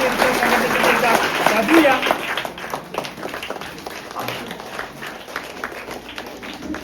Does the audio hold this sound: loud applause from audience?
yes